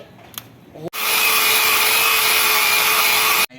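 A tree branch being cut with a saw: a brief quiet start with a small knock, then a loud, steady, high-pitched motorized whine for about two and a half seconds before it cuts off.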